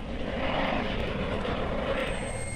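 A rescue helicopter with about 1400 horsepower lifts off, its engine and rotors making a steady, loud, broad roar throughout, with no talk.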